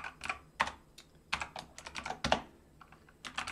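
Close, quiet computer keyboard typing in quick irregular bursts of clicks with brief pauses between words.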